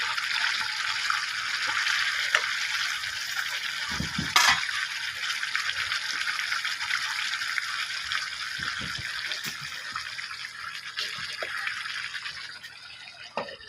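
Lightly fried fish simmering in a thick curry gravy in a pan, a steady soft bubbling hiss with a few louder pops and splutters, close and alone.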